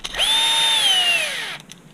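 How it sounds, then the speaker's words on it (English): A power drill driving screws into an HB Racing D817V2 RC car build, whirring in one loud, close burst of about a second and a half that winds down as the screw seats. "I just run them in with the drill and then hand tighten."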